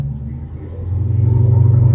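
A 1968 Dodge Charger with a supercharged Hellcat engine and Holley manifolds, no headers, rumbles at a deep, loping idle close by, a pulsing low throb that swells slightly.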